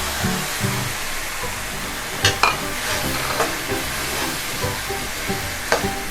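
Ground tomato paste sautés in a pan for gravy, giving a steady soft sizzle broken by a few sharp scrapes of a spoon, close and without talk.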